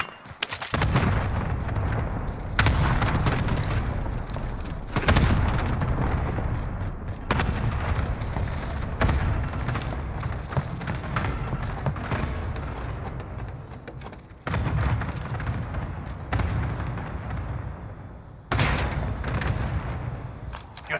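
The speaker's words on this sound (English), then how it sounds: "Cluster strike is active." A Call of Duty Modern Warfare cluster airstrike unleashes dense, rumbling barrages of explosions and gunfire. Loud overlapping blasts keep coming in long waves, with brief breaks between them.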